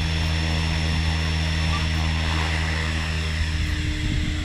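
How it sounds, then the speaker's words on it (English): An Align Trex 500x RC helicopter hovers and flies in normal mode at about 2400 RPM, giving a steady, loud rotor and motor drone with a constant whine that holds unbroken throughout, with no talking. "So I'm just gonna fly out the rest of this battery pack in normal mode."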